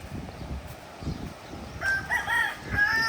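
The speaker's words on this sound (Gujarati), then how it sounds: "કુકડા બતાવું તમને." A rooster crows nearby at a horse stable, one drawn-out rising and falling call in the second half over low background rustling.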